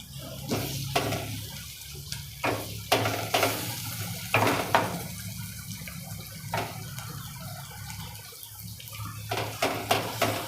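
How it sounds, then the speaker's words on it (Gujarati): A spoon scrapes and stirs spices and garlic chutney in a pan with repeated sharp clinks, over a low sizzle, at close range and moderate volume. "મસાલા બધા મિક્સ કરી દઈએ"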